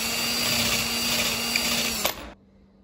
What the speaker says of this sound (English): All the holes drilled.